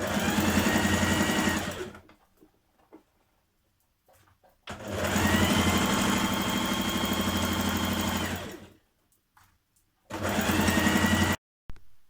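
A sewing machine stitches a seam while making a playsuit from a duvet cover. It runs in three loud, steady whirring bursts of a few seconds each, with quiet pauses and faint handling noise between them.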